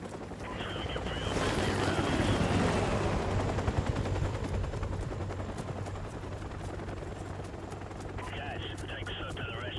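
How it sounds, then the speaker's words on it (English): Enemy helicopters and gunfire in the Call of Duty 4 video game, a loud, steady rotor drone with bursts of shots and a swelling blast early on, all continuing under game noise. "Enemy helicopters."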